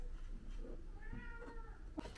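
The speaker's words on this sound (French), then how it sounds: "Mon chat il me répond comme si c'était un vrai monsieur" A house cat meows in reply, a few soft, drawn-out meows and a short chirp, heard faint and close in a quiet room.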